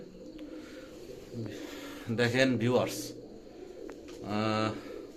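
Teddy pigeons coo in a few short bursts close by, with someone talking over and between the calls.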